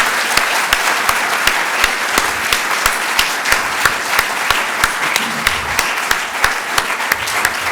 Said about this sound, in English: let us, friends, welcome him with a very big round of applause